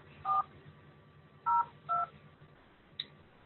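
A telephone number is dialed for a cold call: clear, separate DTMF keypad tones, three main beeps followed by a short fourth one, heard alone over a faint hum.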